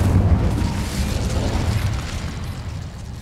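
A fire spell cast in the video game Hogwarts Legacy bursts out as a loud, booming whoosh of flame. It holds as a rumbling roar for a few seconds and plays alone, with no talk over it.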